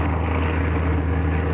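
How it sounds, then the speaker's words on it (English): An airplane climbs overhead, its engine a loud, steady, unbroken drone with no voices. "And that plane, it's going up too."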